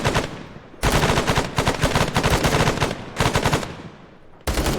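Sustained automatic gunfire in the military game ArmA, with dense rapid bursts and short pauses between them, loud and close, without speech.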